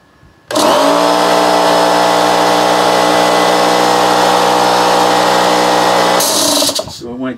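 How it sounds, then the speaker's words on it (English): An air compressor powered by a portable solar generator kicks on abruptly and runs with a loud, steady motor whine and hum for about six seconds, then shuts off as a person begins talking. "So let's crank up. Air compressors are notorious for high surges."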